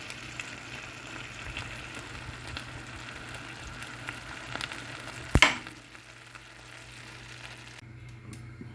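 Roast breadfruit fries in a pan with a steady, soft sizzle, near and fairly quiet, broken by one sharp clatter midway before the frying sound drops lower.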